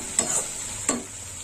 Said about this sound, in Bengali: হলুদটা একটু ভাজা হবে।